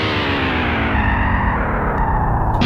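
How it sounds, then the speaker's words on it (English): Electric guitar run through a pedalboard with a beat-repeat effect, giving a loud, glitchy, doubled and distorted stutter that sweeps downward and cuts off abruptly at the end, with no talking. "I have the beat repeat for the secondary effect. And it's like doubled and sort of has this weird effect on it right here."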